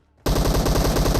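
A DMR rifle fires on full auto in a battle royale video game, a loud rapid stream of gunshots bursting in suddenly after a brief silence and hammering on without a break.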